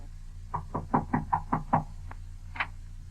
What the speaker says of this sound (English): There's someone at the door.